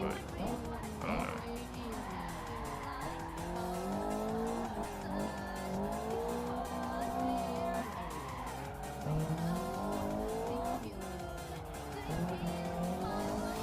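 Race car tire squeal and skidding from the Assetto Corsa driving game on a touge mountain pass at Akagi, a continuous wavering screech with engine tone running steadily at constant loudness throughout.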